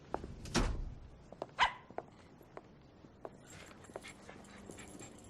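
A dog barks somewhere in a scene, with a couple of sharp barks near the start and then scattered faint yips and rustling noises that continue in the background.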